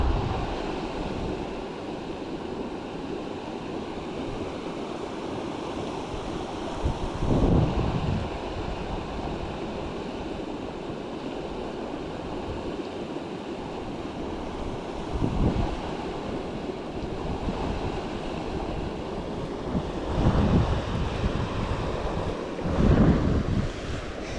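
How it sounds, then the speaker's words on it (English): Wind blows steadily beside a dam during goldeye fishing, a constant rushing roar buffeting the microphone with a few louder gusts, and no talk. "Fighting the wind more than I am the current here."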